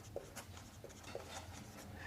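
Chalk or marker strokes on a classroom board during a physics lesson, faint scratchy taps spaced irregularly over a quiet background.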